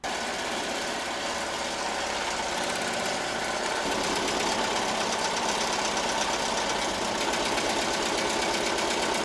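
A computerized embroidery machine stitches a letter S onto white and gingham dress fabric, giving a steady, fast mechanical whir with a dense rapid needle-clatter rhythm that holds constant throughout, close and alone with no voices.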